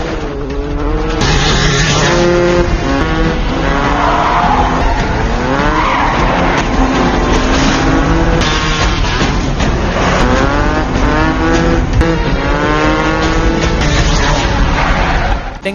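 A motorcycle escape in an action film: loud engines rev and whine through shifting gears over a dense, constant chase soundtrack, with tire squeal and skidding throughout.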